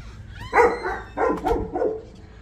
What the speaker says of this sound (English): He's got guard dogs.